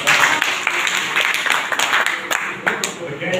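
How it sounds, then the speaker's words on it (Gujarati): A crowd at a gathering in Haridwar claps steadily in a dense, fairly close burst of applause lasting a few seconds, with no voices clearly standing out. "એટલે તાળીઓ"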